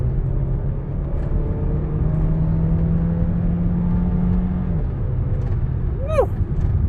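A 2023 Mercedes-Benz A200 A-Class facelift with 164 hp accelerates, its engine note rising as a steady low drone and road rumble fill the cabin, then a brief rising tone near the end.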